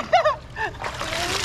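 Someone jumps into water while swimming outdoors, and a loud splash and slosh follow right after excited shouting voices.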